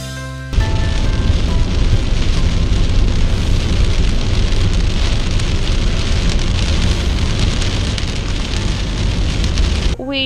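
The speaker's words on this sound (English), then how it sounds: "Here comes the rain." Sudden heavy rain shower during a thunderstorm, a loud, dense, steady roar of rain beating on surfaces that starts abruptly and holds for several seconds before cutting off.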